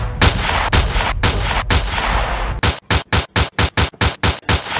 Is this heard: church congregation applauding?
no